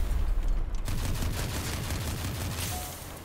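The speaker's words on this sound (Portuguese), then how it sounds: "vou atirar" Weapon fire in the vehicle combat game Crossout, a dense burst of rapid gunshots up close that rolls into a continuous rumbling barrage, loud and alone with no talk.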